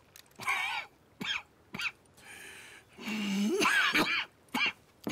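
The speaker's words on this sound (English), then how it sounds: "That's quite a cough." A man in a video game, suffering from tuberculosis, coughs in a series of harsh, wet bursts with short gaps, ending in a longer strained hacking fit, close and loud.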